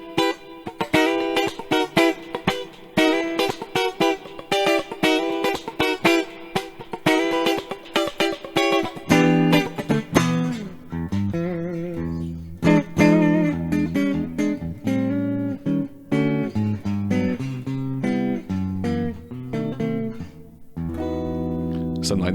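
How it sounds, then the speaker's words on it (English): A semi-hollow electric guitar in the style of a Gibson 335, played with the bridge and neck pickups split, gives a steady run of picked notes and chords that carry on throughout at a fairly loud level with no talk. "Let's move over to the split of the bridge and the neck right now, which sounds something like this."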